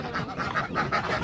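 Ducks on a farm give repeated quacking and honking calls in short bursts, moderately close and fairly loud, with no talk.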